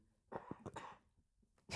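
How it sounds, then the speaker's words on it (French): A person at a group gathering gives a couple of short, harsh coughs nearby, followed by another brief cough, with no talk. "Toi aussi, tu tousses."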